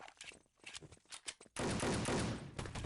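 Gunfire in a World War II shooter game: scattered shots and footsteps, then from midway a loud, dense, sustained burst of automatic fire exchanged back and forth at close range.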